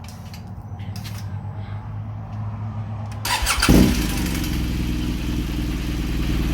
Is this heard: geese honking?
no